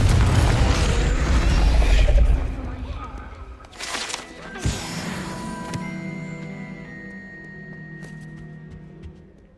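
Confringo fire-spell blasts go off in Hogwarts Legacy gameplay, a heavy booming explosion up front followed by a few sharper pops and magical rumbles that fade into a lingering tone.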